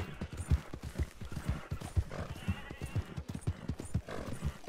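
Horse hooves clip-clop in a steady, quick rhythm in the Western video game Red Dead Redemption, close and distinct, with a brief neigh mixed into the gallop.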